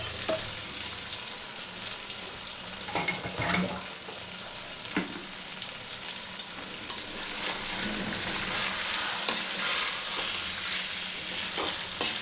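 Rice for pulao, with a little food colouring added, fries in a pan, giving a steady close sizzle while occasional scrapes and knocks from stirring break through.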